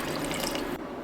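Water poured into a pot of rice while cooking masala rice, a short splashing, filling pour that cuts off abruptly near the end, close and alone.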